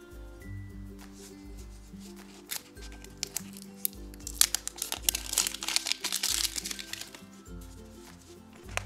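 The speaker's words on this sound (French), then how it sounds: "nous allons tout de suite déballer" Crinkling, rustling plastic wrap being peeled off a Peppa Pig surprise egg toy, close and continuous with scattered sharp crackles building in the middle, no talking.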